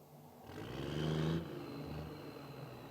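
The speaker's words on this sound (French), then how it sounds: "Il manque quoi ce bruit de camion fantôme là?" A low engine rumbles and swells as a heavy vehicle revs briefly, then settles into a steady drone.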